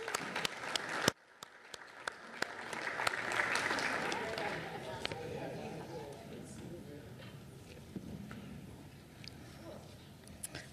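Applause at a city commission meeting breaks out after a few sharp knocks, rising into a moderate round of clapping around the chamber that gradually thins out, with some talking underneath.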